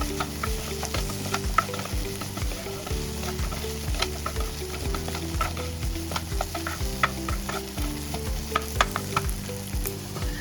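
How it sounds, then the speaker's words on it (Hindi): Green chilies sizzle steadily in a hot pan, with occasional scraping stirs and a low background hum of a kitchen chimney fan; no one speaks. "देखो थोड़ा बहुत फ्राई मैंने कर लिया"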